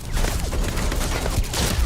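Turret fire in the sci-fi video game Starfield, a dense, continuous burst of rapid shots lasting the whole stretch at steady loudness, with no talk over it.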